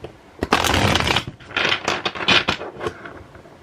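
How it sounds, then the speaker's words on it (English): A deck of cards being shuffled by hand: bursts of crisp riffling and flicking close up, in quick uneven clusters with short pauses and no talk. "there's just one other deck that I want to kind of shuffle through"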